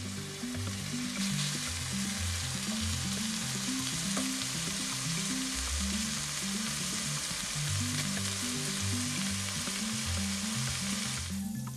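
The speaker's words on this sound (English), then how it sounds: "And all we really want to do is get that prosciutto a little bit crispy." Prosciutto frying in extra virgin olive oil in a cast iron pan, giving a steady, close sizzle and crackle of spitting fat that continues evenly throughout with no talking.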